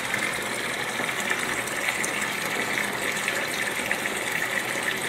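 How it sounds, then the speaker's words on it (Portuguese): A hose siphons dirty water out of an aquarium during a partial water change, giving a steady, close rush of flowing water that stays even throughout with no speech. "Aí você usa a mangueira para sugar toda essa sujidade aí."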